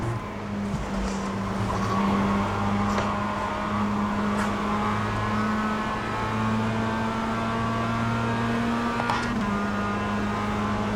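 Race car engine in iRacing, holding a steady loud drone with pitch stepping between gears as the car brakes and accelerates, with faint clicks on top and no voices.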